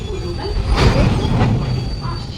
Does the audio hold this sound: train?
yes